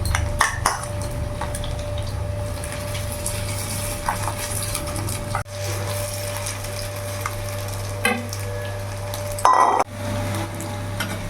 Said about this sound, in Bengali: চামচের সাহায্যে মাছের ডিমের বড়াগুলো এইভাবে আমি বানাবো